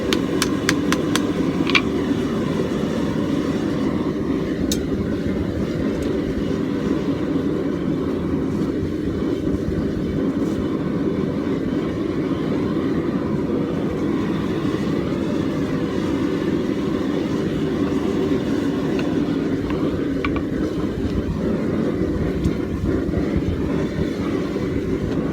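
A forge roars steadily while heating a farrier rasp tomahawk to welding heat, a dense continuous blower rumble that stays loud and even for the whole stretch, with a few faint metallic ticks early on.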